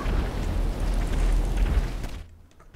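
A missile explodes in Grand Theft Auto V, a heavy, rumbling boom with deep low-end roar that holds for about two seconds and then cuts off abruptly.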